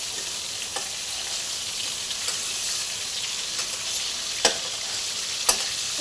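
Prawns sizzle steadily in a hot pan of oil, a constant crackling hiss with occasional sharp pops and spatters, close and alone without talk.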